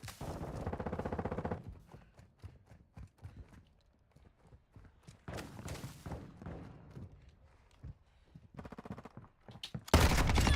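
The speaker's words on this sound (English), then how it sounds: "Taking effective fire!" Bursts of video game gunfire crackle in several loud volleys separated by quieter stretches, with a final dense burst at the end.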